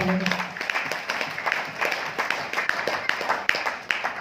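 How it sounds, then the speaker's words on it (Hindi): Hall audience at a speech event in Durgapur claps for a short stretch, a moderate patter of hands with some uneven bursts, with a voice briefly present at the start. "इनके लिए एक जोरदार तालियां हो जाए"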